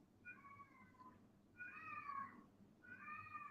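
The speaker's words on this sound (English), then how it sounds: "That's a cat" Cat meowing in a jungle-like outdoor setting: three drawn-out, fairly faint meows spaced about a second apart, with no talk over them.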